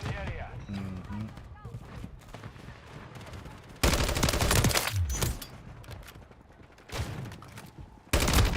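Loud shotgun blasts go off in Call of Duty MWZ, heavy bursts arriving in separate clusters, with game voices speaking in between.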